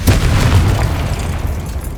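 A loud, deep boom from a Confringo fire spell explosion in the Hogwarts Legacy video game, a single heavy blast rolling off over two seconds with no talk.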